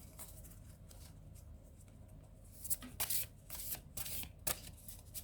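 Tarot cards are shuffled by hand in quiet riffling bursts, faint and close, starting softly and growing into distinct flurries toward the end.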